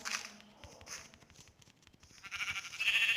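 Sheep bleating in the Minecraft video game, a few short in-game bleats over soft footstep-like clicks, growing louder toward the end.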